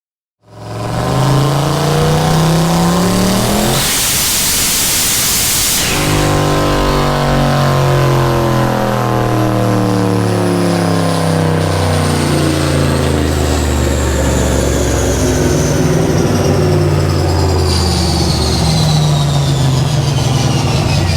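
A turbocharged Chevy engine on nitrous roars at full throttle on a dyno, loud and continuous for about twenty seconds as the revs climb and sweep upward, with a hissing burst early in the pull.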